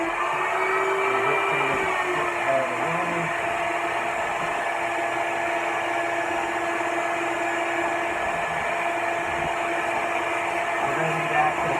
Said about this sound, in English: So I got my shop vac